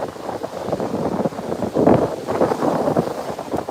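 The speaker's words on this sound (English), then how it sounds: "It is windy and rough" Strong, gusty wind buffets the microphone at a rough, choppy beach in Playa del Carmen at sunrise, a steady close roar that swells in the middle, with no voices.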